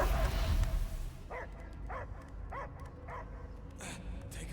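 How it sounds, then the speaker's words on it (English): A dog barks in Marvel's Guardians of the Galaxy, five evenly spaced, mid-distance barks in a row after a burst of noisy rumble at the start, with faint background sound between them. "I hear only barking."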